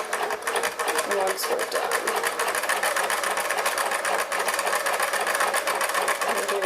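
Sewing machine stitching down the trim of a pillowcase, a steady rapid clatter running throughout while a voice speaks over it.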